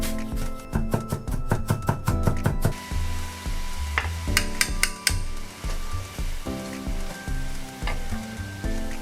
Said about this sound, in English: I'll saute those all together until they're softened and fragrant